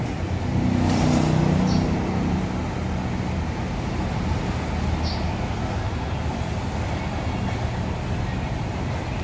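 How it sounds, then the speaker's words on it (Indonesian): PM2 Pmtoh bus pulling away from a terminal stop to continue toward Bandung, a steady low engine rumble and road noise throughout, louder at the start and then holding at a constant moderate level. "bus PM2 lanjutkan perjalanan menuju ke Bandung"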